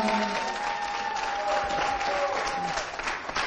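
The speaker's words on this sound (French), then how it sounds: "On va applaudir très fort pour les musiciens" Steady applause from a crowd for the musicians fills the whole stretch, dense and even, with a faint held musical tone underneath.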